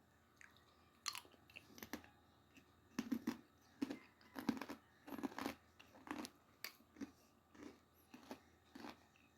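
Close, quiet crunchy chewing of Vinamit dried mango from Vietnam, bites and chews coming in a steady rhythm, with no talking.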